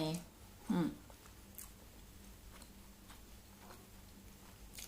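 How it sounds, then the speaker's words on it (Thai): Someone chews a Thai coconut dessert, a Phatthalung-style kanom jak of flour with pure coconut flesh inside: soft close-up mouth clicks and moist bites, one louder crunch near the start, with quiet speech around it. "เคี้ยวไปยังโดนเนื้อมะพร้าว เลยค่ะ"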